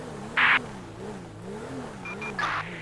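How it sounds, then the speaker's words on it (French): Police car driven forward in the video game GTA 5, a steady low engine drone with slowly rising and falling pitch, plus two brief brighter bursts, heard alone without talk. "Je vais m'avancer avec mon véhicule."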